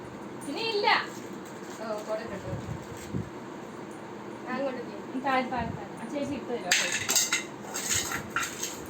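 A dog shoves its food bowl across the floor, giving several clattering, scraping knocks spread over the stretch, while people talk nearby and a voice joins in.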